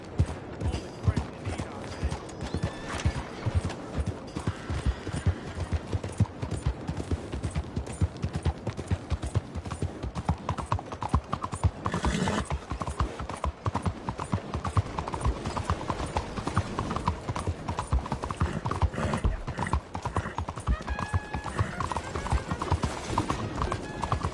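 Horse hooves clip-clop steadily in Red Dead Redemption 2, a continuous rhythmic trot heard up close alongside game ambience, occasional whinnies and intermittent in-game dialogue.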